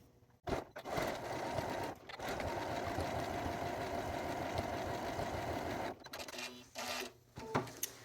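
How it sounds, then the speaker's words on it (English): A sewing machine runs steadily, stitching down the side seam of a bag, with a brief pause and short bursts of stitching near the end, close and alone. "So now I'm stitching down the side."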